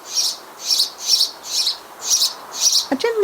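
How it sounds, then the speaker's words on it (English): House sparrows chirp in a Hampshire garden, hidden in a shrub, giving six bright, evenly spaced chirps close by, with a lower call breaking in right at the end. "I love hearing the distinctive chirps of house sparrows in my garden"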